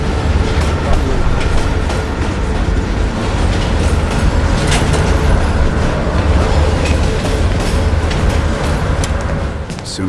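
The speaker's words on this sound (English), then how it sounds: "As soon as the train slows down," A moving train in the shooter Call of Duty Black Ops Cold War rumbles heavily and continuously, a loud low roar with faint rattling clacks throughout.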